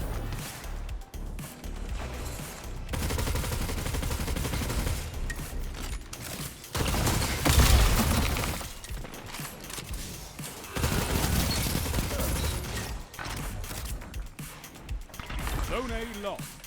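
The Tarrabah weapon in a video game PvP match, firing rapid automatic bursts in repeated clusters amid crashing game effects, with a voice speaking over much of it.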